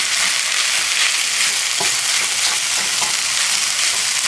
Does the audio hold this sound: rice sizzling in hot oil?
yes